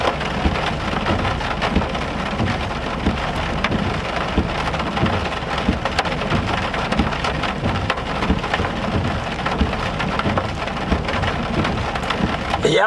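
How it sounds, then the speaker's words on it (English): Heavy rain from a severe Oklahoma thunderstorm pours down in a dense, continuous hiss and patter on nearby surfaces, with a low rumble beneath and no pause throughout. "now the rain has started"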